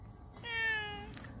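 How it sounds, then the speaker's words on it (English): A single drawn-out cat meow, clear and fairly close, rising and then trailing off over about a second against a quiet background. "Cat."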